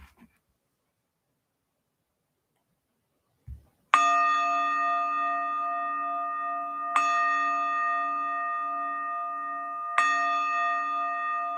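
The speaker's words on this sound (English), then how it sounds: "after 3 chimes of the bell, we will conclude our practice" A meditation bell is struck three times at even intervals in a quiet room, each chime ringing out clearly and sustaining into the next.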